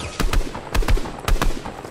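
Gunfire in the video game Fortnite, a few sharp shots and short bursts spaced over under two seconds, loud and close with a noisy background.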